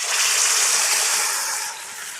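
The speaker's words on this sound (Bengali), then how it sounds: "এবার কড়াইতে মাছটা দিয়ে দিলাম।" Fish coated in spice paste is laid into hot oil in a karahi, setting off a loud, steady hiss of frying that eases slightly toward the end.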